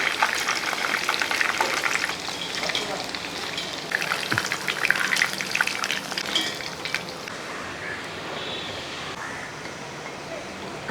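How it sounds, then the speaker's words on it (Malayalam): Chicken pieces frying in oil at medium heat give a steady, close crackling sizzle with scattered pops that continues throughout, and a voice talks over it at times. "അത് ഒരു മീഡിയം രീതി ഫ്രൈ ചെയ്തെടുക്കണം രണ്ട് സൈഡും ഒന്ന് ഫ്രൈ ആയ ശേഷം നമുക്കത് മാറ്റണം"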